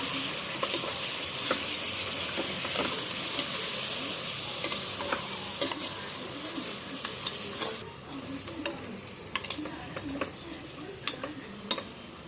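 Turmeric and chili powder are stirred into sizzling oil in a pan with a spoon, a continuous frying hiss broken by repeated scraping and clinking strokes that become sparser and more distinct toward the end.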